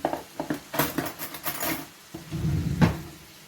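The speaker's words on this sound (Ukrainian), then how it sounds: "Зараз я його почищу, оцю серцевинку вийму ложкою." Quiet scraping and light clinking of a spoon scooping the core from a zucchini, in short irregular strokes, followed by a longer scrape.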